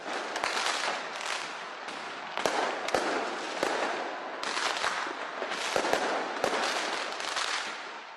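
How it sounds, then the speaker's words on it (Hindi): New Year fireworks display at the Al Sheikh Zayed Festival, a dense barrage of crackling bursts and sharp booming reports overlapping continuously, with some louder individual bangs standing out from a distance. "अल शेख साइद फेस्टिवल में तारीख की सबसे बड़ी आतिशबाजी का मुजाहिरा किया गया"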